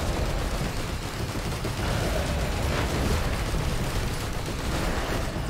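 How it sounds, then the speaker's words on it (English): Continuous heavy rumbling blasts and booming bursts fill the whole stretch, loud and dense with no pauses, a barrage of Risk of Rain 2 explosions. "Yeah, that's a lot of explosions on that guy."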